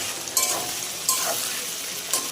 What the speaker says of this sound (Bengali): মাথাগুলোকে হালকা খুন্তির সাহায্যে হালকা ভেঙে দেবো।